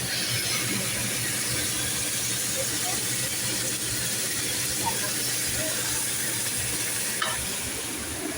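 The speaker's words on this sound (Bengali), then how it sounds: "আমি পেঁয়াজ আর রসুন ভাজি করে নিচ্ছি" Onions and garlic frying in a pan give off a steady, close sizzle and hiss that runs unbroken for the whole stretch, with no pauses or changes in intensity.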